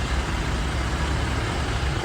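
Several vehicle engines idle together in a low, steady rumble with a dull wash of traffic noise, no speech.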